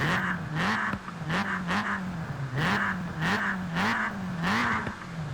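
A Ford Racing Puma in Forza Horizon 4 revs repeatedly, its engine note climbing and dropping in a steady cycle of blips, loud and close, with no one talking over it.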